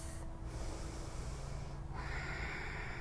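Steady, deep breathing during an outdoor yoga flow on a field, with long airy inhales and exhales that are close and continuous, one breath shifting into the next with no talk.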